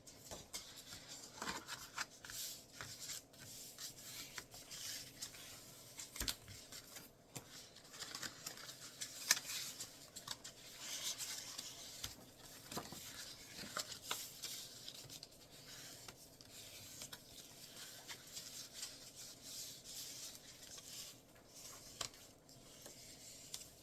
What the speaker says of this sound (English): I'm giving all of those creases a nice smash with the bone folder